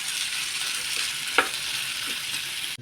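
Meat frying in a pan with spices stirred through, a steady broad sizzle running throughout with one brief clack of the spoon against the pan midway.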